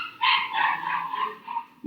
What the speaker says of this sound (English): just a puppy running around